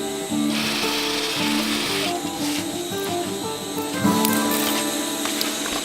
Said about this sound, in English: Okay, so do a straight line stitch.